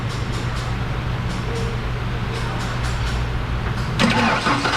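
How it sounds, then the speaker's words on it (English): A Ford F150 engine cranks over steadily with its starter solenoid jumped, a rhythmic mid-pitched churning sound that grows louder and rougher near the end. "I'm gonna go ahead and jump the starter solenoid and get this engine to crank."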